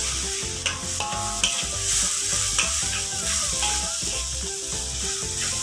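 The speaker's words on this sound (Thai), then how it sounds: "แล้วก็ผัดคลุกเคล้านะครับให้ซอสแดงนะครับทั่วเม็ดข้าวเลยนะครับ" Rice with red sauce is stir-fried in a pan, with continuous loud sizzling close by and repeated scraping and tossing strokes of a utensil against the metal.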